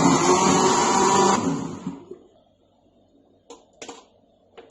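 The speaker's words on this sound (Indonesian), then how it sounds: "dan kita blender lagi." A kitchen blender whirs loudly while mixing a sauce for Hainan chicken rice, then cuts off, followed by quiet room sound and a few small clinks and knocks.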